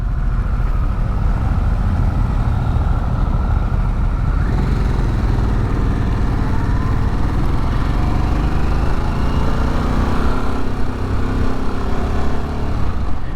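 Harley-Davidson Sportster S motorcycle engine running, a steady loud rumble heard from the rider's position with the pitch rising and falling as it revs through gears.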